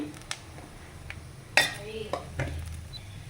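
Onions and black pepper frying in a pan with sharp stirring and utensil clinks against metal, a few distinct scrapes over a low background hiss.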